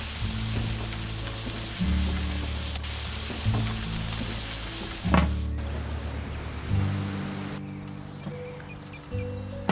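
Fish fillets cook on a Weber Q gas grill with a continuous broad sizzle and hiss, broken by a few soft clicks and shifts in tone, close and steady with no talking.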